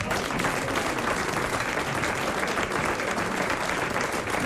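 Loud, dense studio audience applause on a French radio comedy panel show, continuous clapping holding steady throughout.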